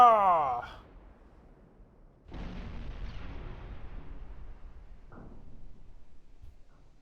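Warship naval guns fire in the Ultimate Admiral Dreadnoughts game: a heavy boom with a long rumbling tail, then two shorter blasts further off. A voice is briefly heard just before the first shot.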